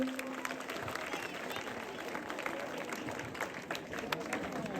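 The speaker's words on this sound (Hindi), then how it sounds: "जोरदार तालियां" Dense, continuous applause from a crowd at a hall opening speech event, steady clapping filling the whole stretch at moderate distance.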